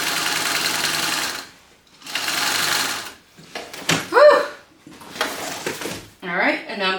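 A sewing machine runs a second line of stitching along a straight edge of a garment seam in two steady bursts, each about a second and a half long, followed by some shuffling and a few short exclamations from a person.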